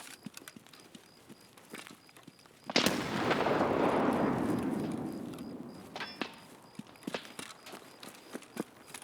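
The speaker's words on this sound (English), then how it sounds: "Did you hear the shot?" A single loud gunshot rings out in an Escape from Tarkov style shooter game. It comes suddenly and is followed by a long reverberating rumble that fades over several seconds, with sparse clicks and taps before and after it.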